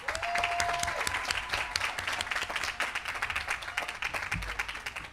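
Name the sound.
audience applause at graduation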